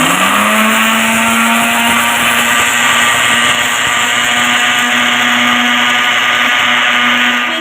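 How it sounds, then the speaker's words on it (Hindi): A blender runs continuously at full power, mixing sugar into marble cupcake batter; a loud, steady motor whine that holds even throughout, with no voices. "इसको हम आहिस्ता आहिस्ता शामिल करेंगे और साथ ही ब्लेंड कर देंगे"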